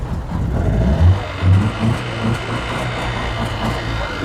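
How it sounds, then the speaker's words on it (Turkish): A used 2006 Hyundai diesel car idling roughly at an outdoor car market with one dead cylinder, giving a low, uneven engine rumble with irregular throbbing pulses that runs steadily through the whole clip. "Araba 3 pistonla mı? 2 pistonla mı ne çalışıyor bak."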